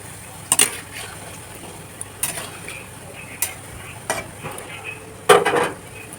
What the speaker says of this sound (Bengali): এইভাবে লালচে লালচে করে ভেজে নিতে হবে।